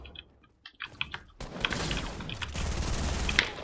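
Rapid bursts of gunfire from the video game Fortnite during duo play, sharp repeated shots building from sparse hits into a dense, steady volley with clicking keyboard taps mixed in.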